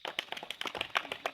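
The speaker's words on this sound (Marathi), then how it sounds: "टाळ्या चालू ठेवा" A few people clap quickly and unevenly, a brief, fairly quiet patter of hand claps.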